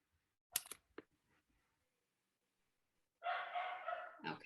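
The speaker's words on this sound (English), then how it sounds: "if the dog is annoying me, I'm sure he's annoying everyone else" A dog barks indoors in a couple of short, sharp bursts, fairly close and isolated against near silence, followed later by a longer stretch of broadband noise.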